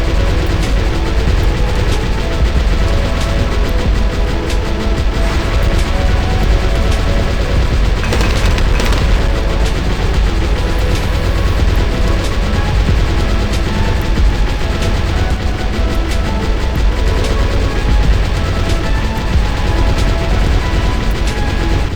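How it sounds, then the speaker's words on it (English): A Flying Fortress spraying projectiles in the tower defense game Bloons TD Battles, a dense, continuous barrage of booming shots and impacts that stays loud throughout with no pauses. "because of the spray of projectiles it can dish out"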